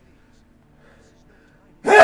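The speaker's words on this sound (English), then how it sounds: "God, I'm going to sneeze." A single sudden human sneeze bursts out at the very end after near silence, loud and close.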